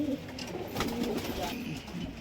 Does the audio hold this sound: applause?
no